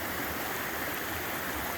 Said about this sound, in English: of the melting snow, the roaring river